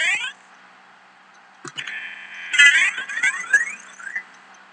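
Retro 8-bit sound effects from an Exploding Rabbit Mario game, with short electronic beeps and bleeps in bursts separated by a quiet gap, a few clicks mixed in.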